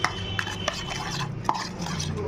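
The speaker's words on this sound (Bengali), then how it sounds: "ভালো করে মিশিয়ে দেবো মশলাটা টক দইয়ের সাথে" Spice paste being mixed with sour yogurt in a bowl for a hilsa dish: soft scraping strokes with a few light clinks of a utensil against the bowl, close and quiet.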